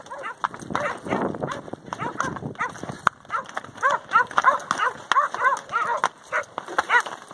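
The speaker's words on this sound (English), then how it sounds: "I hear her barking, that's good news." Catahoula dogs bark in short repeated bursts while holding up cattle out on a ranch, mixed with clopping hooves and a voice calling out over the scene.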